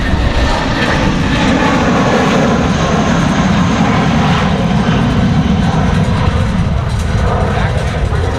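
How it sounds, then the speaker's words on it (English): An Airbus A319 jet rolls for departure at Raleigh-Durham International Airport, its engines producing a loud, sustained, broad roar with a deep rumble that stays steady throughout and overwhelms everything else. "Come on, our A319 doing a slow roll here. Should be a good sounding departure."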